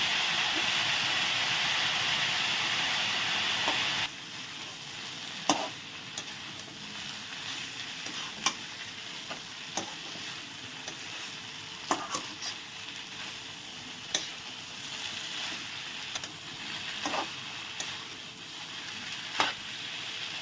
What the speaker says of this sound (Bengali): এখন নেড়ে টেড়ে ঢেকে দিব।